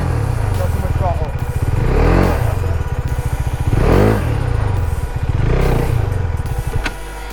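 A motorcycle engine revs loudly and close during a wheelie attempt, rising and falling in a few surging waves, while a person talks over it.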